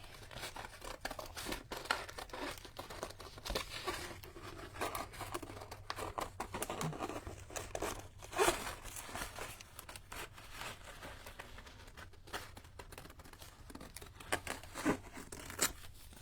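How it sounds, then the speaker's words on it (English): Scissors cutting through crunchy magazine paper for a junk journal, with soft crinkling, snipping and tearing sounds close by and fairly quiet, in irregular bursts across the stretch. "I'm just going to use scissors."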